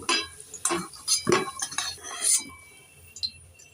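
Fried potatoes being lifted from a pan onto a plate, with several bright clinks and scrapes of metal utensils against dishes, close and fairly loud, trailing off into quiet near the end.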